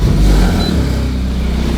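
Revs from a BMW 330e fitted with a valved backbox exhaust while the car is raised in the air, giving a steady, close, loud engine drone throughout with no talk.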